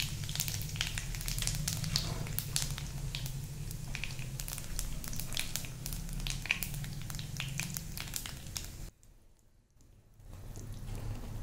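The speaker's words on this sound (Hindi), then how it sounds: "अब हम इसमें 2 तेज पत्ते, 1 साबुत मिर्ची और ये जीरा डाल देंगे।" Bay leaves, a whole chili and cumin sizzle in hot oil, a steady close crackle with bursts of popping spatter, falling briefly quiet near the end before the frying noise returns.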